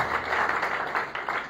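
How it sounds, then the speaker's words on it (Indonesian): Brief, steady applause from a church congregation, a dense wash of clapping heard close and fairly loud for a moment. "Beri tepuk tangan terbaik buat Tuhan Yesus Kristus."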